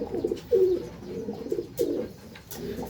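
Pigeons coo in soft, throaty bursts, several low rolling calls close by with short pauses between them and no talking.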